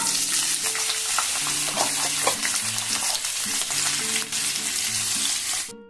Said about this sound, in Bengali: প্রথমেই আমি দিয়ে দেবো কতগুলো কুচিয়ে রাখা পেঁয়াজ